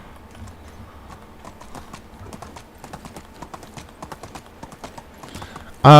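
Steady clip-clop of horse hooves trotting at a moderate pace in the video game Medieval Dynasty, fairly close, ending in a sudden loud burst of noise.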